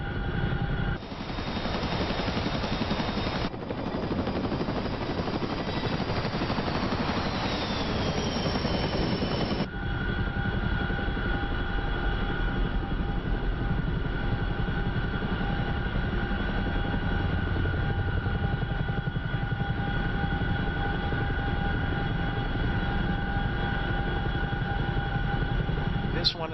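A Boeing CH-47F Chinook helicopter in DCS gives a steady, droning rotor hum with engine whine throughout, loud and close, with a sharper noisy burst in the first ten seconds.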